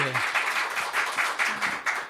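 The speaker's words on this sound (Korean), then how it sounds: "박수로." A church congregation claps during a worship service talk segment, producing a moderate, fairly even patter of hands, and a voice is heard briefly at the start.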